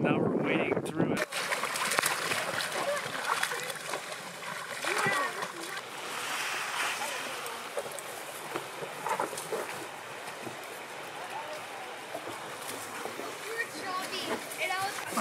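People wade through a shallow pond on a lake canoe loop, with steady close splashing and sloshing of water throughout and voices talking now and then.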